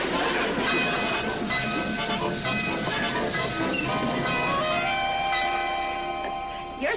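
A train in a 1960s TV sitcom rumbles and hisses as it slows, with screeching metallic squeals of brakes rising toward the end as it comes to a stop.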